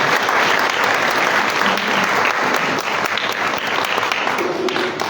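A congregation at a morning Holy Mass bursts into loud, sustained applause in welcome. The clapping stays dense and even for several seconds, with no voices over it.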